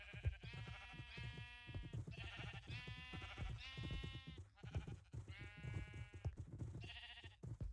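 Sheep in a farming video game bleat over and over, a flock calling in overlapping, fairly close bleats that run steadily throughout with no talking.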